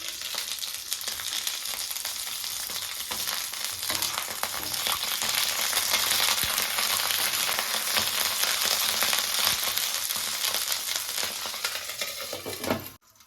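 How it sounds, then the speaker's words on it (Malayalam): Brinjal (eggplant) pieces fry in a pan with a continuous, dense sizzle and crackle heard close up, staying steady and loud throughout before a brief scrape and a sudden drop at the end. "ഇനി നമുക്കിതൊന്ന് അടച്ചു വെച്ച് ഫ്രൈ ചെയ്യാം"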